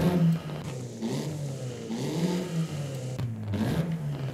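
A 600-horsepower Mustang SVO drag build fitted with a race exhaust revs in Forza Horizon 5, its engine note rising and falling in steady, loud surges with a gritty whir throughout.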